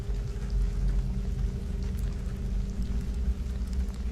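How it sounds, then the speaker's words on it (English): Heavy rain falling in sheets against the glass windows of a modern two-story home in Eugene, Oregon, a steady dense wash of patter and low rumble throughout. "The rain fell in sheets over Eugene, Oregon, drumming against the sleek glass windows of the modern two-story home where Jessica Monroe and her two children"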